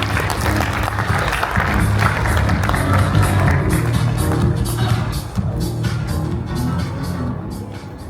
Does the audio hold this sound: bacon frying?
no